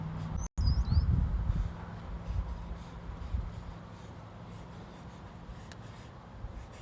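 Pencil or marker scratching across paper while sketching a baby turtle, a steady soft rasping that runs continuously and fairly close, a little louder early on before settling into quieter strokes.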